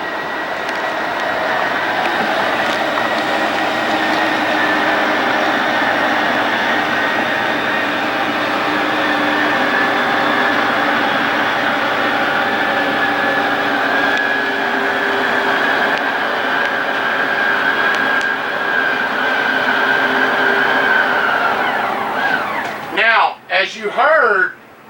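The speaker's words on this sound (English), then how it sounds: "let's listen to the motion of the SwinTech to hear when I should let go" Steady mechanical whir of the SwinTech motor on a 2020 Thor ACE 33.1 motorhome extending, a continuous droning hum running nearly the whole time before cutting off into a few brief clunks and quiet.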